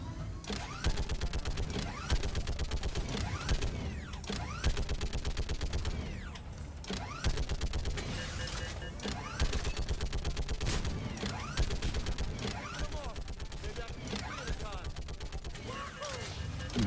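Repeated gunfire from the Mass Effect video game, a steady run of sharp shots and bursts over a dense, loud battle mix lasting the whole stretch.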